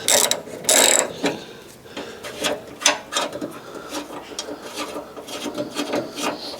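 Bolts are undone on the damaged bumper and wing of a Fiat 500 using a ratchet, producing loud scraping bursts at first, then a string of quick ratcheting clicks and metallic rasps.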